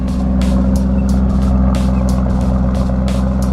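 A 2020 Lamborghini Urus engine runs at a steady, close idle, holding an even, deep rumbling drone throughout with faint ticking overtones.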